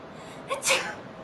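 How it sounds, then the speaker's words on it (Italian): A single quick, fairly soft sneeze from a girl, heard close and alone over faint background noise, with a short intake of breath just before it. "Vuoi fare lo starnuto?"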